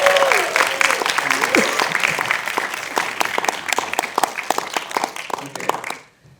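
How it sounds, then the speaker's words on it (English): Audience applause for the film Magellan with director Lav Diaz and actor Gael García Bernal present: dense, sustained clapping from a sizable crowd, with a voice over the start, fading out abruptly at the end. "How about another round of applause for Magellan?"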